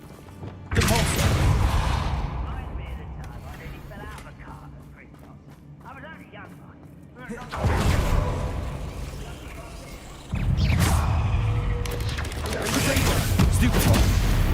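A Depulso spell is cast in Hogwarts Legacy, producing loud whooshing blasts with heavy thuds. Three bursts come at separate moments, with quieter rumbling between them. A voice talks at times.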